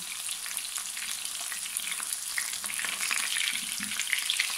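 Marinated chicken strips fry in oil with a steady, moderately loud crackling sizzle that grows slightly busier toward the end.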